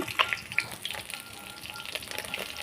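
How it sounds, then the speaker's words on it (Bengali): Fish sizzles and crackles steadily in oil in a pan, with a few sharper pops early on, close and fairly quiet. "আর এখানে মাছ ভাজা করছি"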